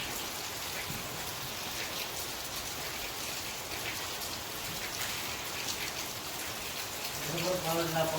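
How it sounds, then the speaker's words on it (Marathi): Rain falls steadily throughout as a dense, even patter, loud and close, with no pauses or breaks. A faint tonal sound rises near the end. "आज काय पाऊस जाणार नाही"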